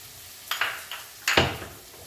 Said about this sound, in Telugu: ఎల్లిపాయలు కొంచెం ముసుక దంచుకొని ఇట్లా తాలింపులు వేసేసుకోవాలి